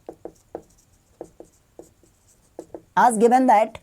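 A pen scratches on paper in short separate strokes during a maths lesson on ellipses, close and crisp, before a voice begins speaking over it.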